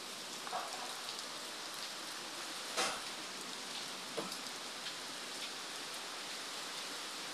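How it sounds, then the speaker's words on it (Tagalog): Heavy rain pours during Typhoon Paolo, a steady hissing downpour with a few louder splashes and gusts, continuous and fairly quiet, with no voices. "Grabing lakas ng ulan."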